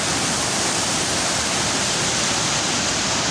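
Strong river current rushing in a steady, dense roar of flowing water, loud and close throughout with no pauses.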